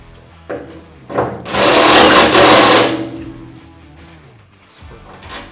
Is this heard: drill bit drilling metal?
yes